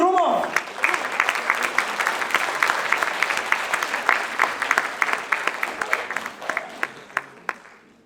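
A concert audience applauds a singing duo at an awards show, dense clapping at moderate volume with crisp individual claps emerging as it gradually thins toward the end; a brief vocal sound opens the burst.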